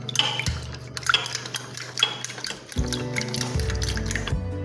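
Egg mixture with vanilla essence is beaten in a bowl, making quick, close clinking and scraping strokes of a utensil against the bowl that settle into a fuller, steadier clatter toward the end, with no talking.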